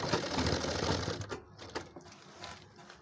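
A sewing machine runs in fast rattling bursts while stitching the handle of a handmade travel bag, loud and close, then stops and starts with brief pauses.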